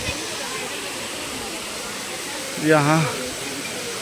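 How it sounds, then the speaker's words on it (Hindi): Steady rushing hiss of a display waterfall flowing beneath a Mahadev statue inside the Chandigarh doll museum, continuous throughout, with a voice briefly speaking over it near the end. "जबरदस्त चला हुआ है झरना"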